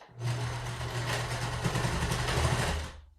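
A sewing machine stitching a pleated fabric face mask, a continuous fast motorized whir with rapid needle chatter that starts, runs steadily for about three seconds and stops abruptly, close and alone.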